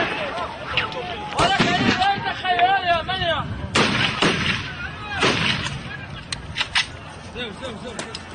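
Gunfire and stone throwing at a violent demonstration against the wall, heard as sharp loud cracks and bangs over crowd shouting and voices.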